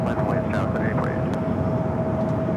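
A Cathay Pacific Boeing 777-300ER jet at LAX gives a steady, continuous engine roar with a sustained tone, moderately loud and mixed with background talking throughout.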